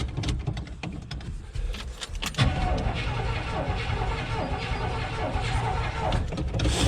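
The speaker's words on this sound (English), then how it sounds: "Cold start on a nice Sunday morning." A Chevy big block 454 in a ramp truck that sat unused for 27 years cranks on a cold morning start. Loud continuous starter and engine churning holds the whole stretch and grows denser about midway, with a voice briefly over it.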